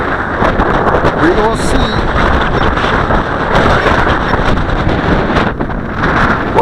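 Strong gusting wind buffets the microphone outdoors while a Syma X8C quadcopter is flown in roughly 15-knot conditions, a steady loud roar filling the whole stretch with someone talking briefly over it.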